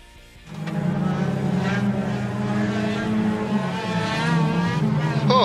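A car engine revving hard while tyres burn rubber, a loud sustained droning roar with a rising whine that starts abruptly after a brief quiet moment and holds steady to the end.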